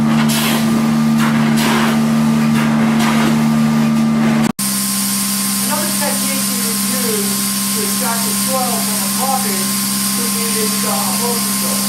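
A carpet extraction cleaning machine runs steadily at close range, a loud constant motor drone with a sharp cut partway through, then a continuing hum overlaid with faint chirping squeaks.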